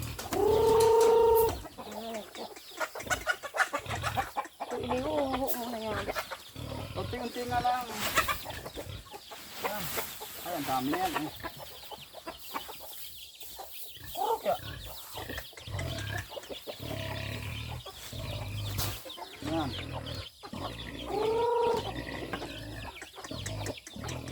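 Native chickens cluck and squawk nearby in a busy, uneven chorus, with occasional louder calls breaking through the steady farmyard chatter.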